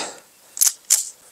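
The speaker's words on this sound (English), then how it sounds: "We're shooting a 124 grain full metal jacket." A CZ Shadow 2 pistol firing 124 grain full metal jacket rounds, two sharp, fairly distant cracks in quick succession, each short and snappy against a quiet background.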